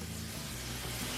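Food sizzling steadily in oil on a Blackstone flat-top griddle while cooking jambalaya, a continuous close hiss that holds even for about a second with no talking.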